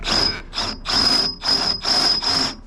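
Power drill boring a hole in short, repeated bursts, about six whining spurts with brief pauses between them, close and fairly loud with no talk.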